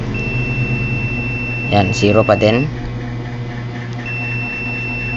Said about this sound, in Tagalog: So mabilis mag-react yung kanyang buzzer.